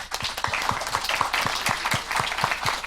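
Applause from a small conference audience at the end of a Brazilian solar-energy session on hybrid systems, steady clapping with distinct individual claps in a fairly regular rhythm, moderately close and alone.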